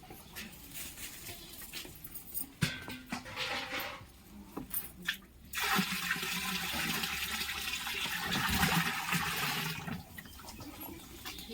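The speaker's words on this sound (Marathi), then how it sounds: "आता हे गोमूत्र ओततोय." Cow urine is poured into a drum of water, gram flour and jaggery water while making jeevamrut organic fertiliser, giving a rushing, splashing pour that rises and falls, then a longer steady gush, fairly faint outdoors.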